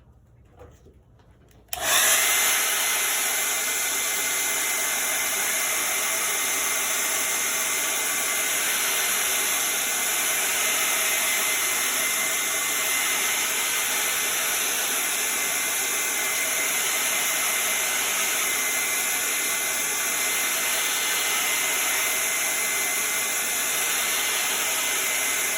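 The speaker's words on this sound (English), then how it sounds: "And we will blow dry to make sure that this is dry before we put our little accents on." A hand-held blow dryer dries chalk paste on a craft project, switching on after a brief quiet start and then roaring steadily and loudly for the rest of the stretch, with no talking over it.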